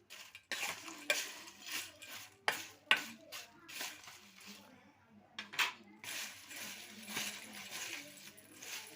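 Sabudana chivda being mixed with peanuts and chutney in a metal vessel, a close run of dry rattling, scraping and clinking as the pieces are tossed, with irregular louder clatters and no talk.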